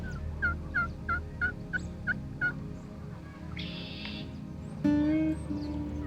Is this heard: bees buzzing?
no